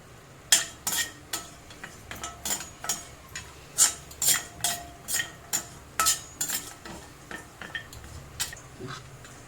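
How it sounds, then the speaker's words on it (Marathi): Dried turmeric roots fry in hot oil in a pan, a soft sizzle running beneath a quick series of scraping, clattering strokes from a spoon stirring against the metal. "त्याच्यानंतर हे हळकुंडे हे आपण तेलात फ्राय करून घेऊया"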